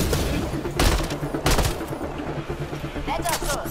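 Rapid gunfire in the video game Mass Effect: Andromeda, repeated sharp shots in uneven bursts mixed with combat effects and a voice speaking over the action.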